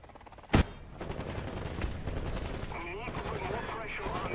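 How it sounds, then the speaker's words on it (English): Gunfire from enemies in a war video game opens with one loud sharp shot, then quieter scattered shots and rattling fire continue under a dense battle din, with no voices. "We are getting shot at."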